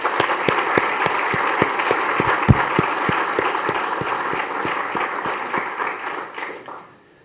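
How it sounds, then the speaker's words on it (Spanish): Audience at the DF 2024 economic seminar applauds for Sebastián, steady dense clapping with a few louder individual claps, fading out near the end. "les pido un aplauso para Sebastián"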